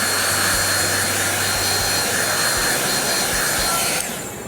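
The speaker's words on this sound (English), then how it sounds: "Okay, then I'm going to heat set this just real quick." A heat tool blows steadily to set stamped embossing ink, a continuous airy whoosh with a faint low hum that runs loud and even, then cuts off near the end.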